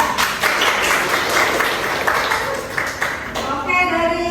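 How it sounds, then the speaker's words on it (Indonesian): A classroom of students claps for a classmate, a fairly loud round of clapping that fades as a voice comes in near the end. "Oke, beri tepuk tangan kepada Rivia."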